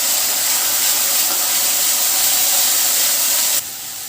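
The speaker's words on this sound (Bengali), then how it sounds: "এবার গ্যাসটা একটু মিডিয়ামে করে মশলাটা ভাজতে হবে।" Masala frying in a pan over a medium gas flame while Kolkata street-style mutton keema ghugni is cooked: a loud, steady, close sizzling hiss that drops abruptly near the end, with no voices.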